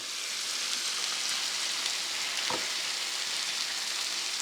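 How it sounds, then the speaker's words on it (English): Ground beef sizzles and browns in a pan with a steady, dense frying hiss that holds even throughout, close and alone, with one brief soft knock partway through. "sometimes I like to take a peek there and just see how the browning's going"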